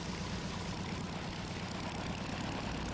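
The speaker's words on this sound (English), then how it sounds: "I've already briefed him about work around the airplane with the propeller running." A homebuilt propeller airplane's engine runs steadily during taxi, a loud continuous droning roar with a low rumble that stays at an even level throughout.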